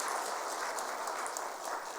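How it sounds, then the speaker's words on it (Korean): A church congregation claps in welcome, a steady dense patter of many hands sustained throughout with no voices over it. "우리 환영의 박수 한번 드리도록 하겠습니다"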